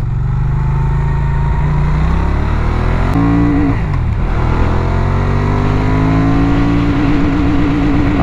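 A Benelli Leoncino 800 motorcycle pulls hard at full throttle in second gear, its engine note climbing steadily in pitch, loud and close throughout with a brief shift-like break partway.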